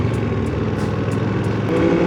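A Ducati Panigale V2 motorcycle drones steadily, loud and close, with a constant engine note while riding and no speech.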